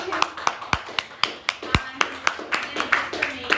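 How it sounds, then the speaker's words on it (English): Steady run of sharp hand claps, roughly four per second, close and fairly loud, with faint talk murmuring underneath. "I need to clap."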